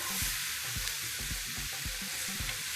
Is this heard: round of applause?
no